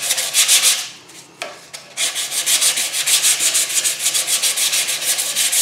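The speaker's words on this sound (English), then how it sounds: "I'm hitting a little bit harder with the sandpaper." Sandpaper rubbed firmly over varnished wood in quick, rhythmic back-and-forth strokes, loud and close, with a short pause partway through before the scratchy rasping resumes.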